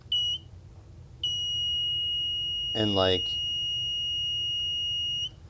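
A kit-built metal detector running on 2.8 volts gives a short shrill beep, then a sustained high-pitched alarm tone for several seconds, with someone briefly talking over it.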